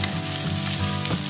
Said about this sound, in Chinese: 起锅烧油，放入蒜末、小米椒炒香